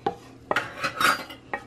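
Vegetables are tossed in a metal pan with utensils, producing several sharp clanks and scraping knocks in an uneven rhythm, close up and moderately loud, with no talk over them.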